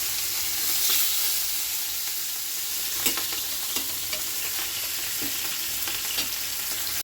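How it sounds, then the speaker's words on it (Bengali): Fish and potatoes fry in two pans side by side, a steady loud sizzle and hiss running throughout, broken by a few light clicks of stirring. "একদিকে ভেজে নেব মাছ, আর একদিকে দিয়ে দেবো আলু"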